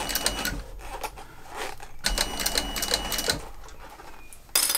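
A leather bag is stitched on a servo-motor sewing machine, a rapid mechanical chatter of the needle in bursts with brief pauses, close and clear, no speech.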